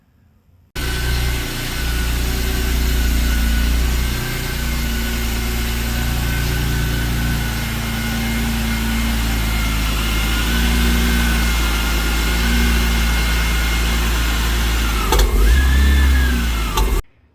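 A BMW E46 M3 engine fires up for its first start and settles into a loud, steady idle that drones on, with a brief surge near the end.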